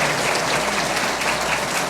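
Warm audience applause at a string orchestra concert fills the room as a dense, steady wash of clapping, loud and continuous throughout with no voices over it.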